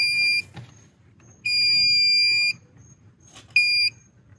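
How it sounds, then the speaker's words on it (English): A newly installed remote start module in a 2011–2014 Hyundai Sonata gives four high electronic beeps, two short and two held longer, clear and close over faint background noise. "At the end, you're gonna hear four beeps."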